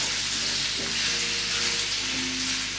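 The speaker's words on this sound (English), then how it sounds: "Stir fry natin itong rib. Stir fry lang natin until maging golden brown." Pork spareribs stir-fry in hot oil in a Salad Master skillet, making a steady, close sizzle with soft spattering, along with faint low hum and tonal background notes.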